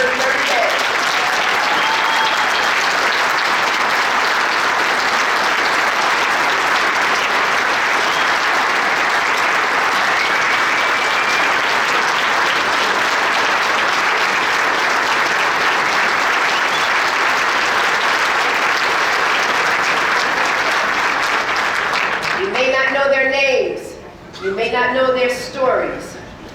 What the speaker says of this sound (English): Turn to them and give them a round of applause for serving every day.